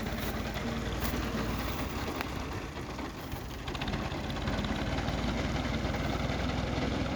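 A tractor engine runs with a continuous loud rumbling drone during the wheat harvest in the fields, a steady mechanical hum throughout.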